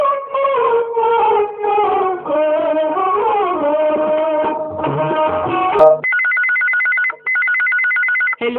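A telephone on a live radio phone-in request show rings loudly with a melodic electronic tune, then switches to a shriller repeated trilling tone, bright and close.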